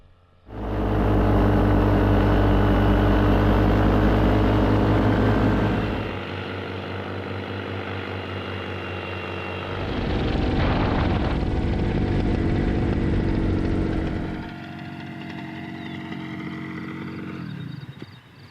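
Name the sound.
new paramotor engine during Jaclyn's flight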